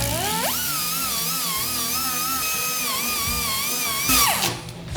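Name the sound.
power sanding pad sanding paint off a Ford F100 hood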